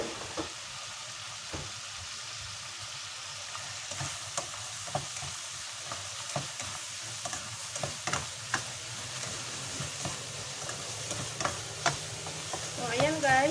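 Minced pork sizzles and fries in a pan. It is stirred now and then, giving soft scraping taps over a steady frying hiss at moderate level.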